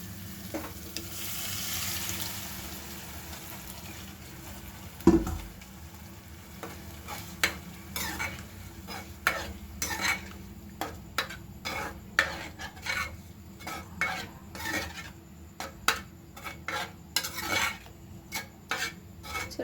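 Bhaji vegetables sizzle in a hot pan while a spatula stirs them, giving repeated scraping clinks against the metal over a steady frying hiss, close up for nearly twenty seconds.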